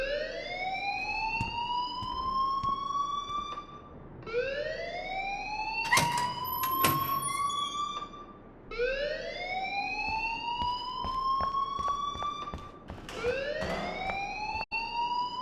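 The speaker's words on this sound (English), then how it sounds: "please turn off that alarm since that's your job" A fire alarm blares inside the Life is Strange video game, rising siren-like sweeps repeating about every four to five seconds, loud and steady with a few brief clanks between cycles and no talking.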